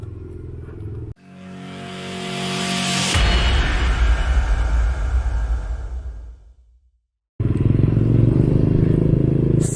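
A motorcycle rides along a road through Santiago toward Barangay Consuelo on Camotes Island. Its engine drones steadily and close, briefly drops out to near silence, then resumes at full strength.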